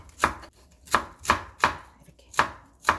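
A knife chops bracken fern (gosari) finely on a cutting board, giving six crisp, evenly spaced thwacks over a few seconds, close and clear with nothing else heard.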